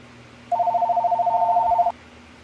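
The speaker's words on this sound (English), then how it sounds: "sorry about the phone" A telephone rings once with a warbling electronic trill lasting just over a second, clear against a quiet room hum.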